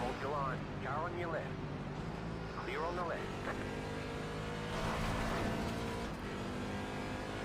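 A Mazda MX-5 race car at Zolder circuit passes by with a droning engine note that rises and fades, heard faint and distant beneath someone talking over it.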